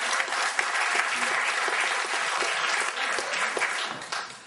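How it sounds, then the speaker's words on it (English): An audience at a talk gives a round of applause, a crisp patter of many hands clapping that stays steady, with a few louder individual claps, before tapering off. "Can you give him a round of applause?"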